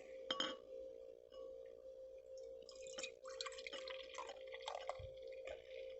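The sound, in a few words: pouring Orkney Gold New World Pale Ale beer into glass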